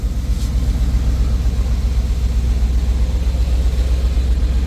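A 1980 Chevrolet Scottsdale pickup, parked for 26 years, idles in a shop with a loud, steady low rumble and an even pulsing beat, close up and with no talk.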